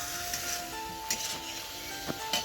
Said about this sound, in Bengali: আলু দিয়ে ফুলকপি ভাজছি